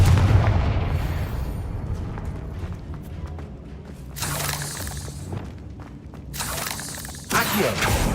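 Confringo fire spell blasts in the Hogwarts Legacy video game, loud booming bursts and shattering impacts over continuous combat noise, with two strong blasts in the latter half.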